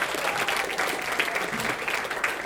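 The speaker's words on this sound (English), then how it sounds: "I'm going to give B a round of applause." A live performance crowd gives a volunteer joining the stage a dense, continuous round of applause, many hands clapping together at a steady level throughout.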